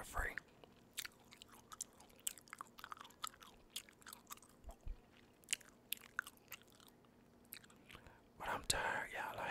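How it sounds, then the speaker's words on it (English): Sugar-free gum chewed close to the mic for ASMR, with soft, irregular wet clicks and smacks scattered throughout and a quiet mumbling voice in places. "I like chewing gum that's sugar-free."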